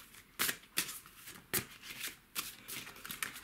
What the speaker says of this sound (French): On va tirer une dernière carte avec l'oracle féminin sacré de Blue Moon.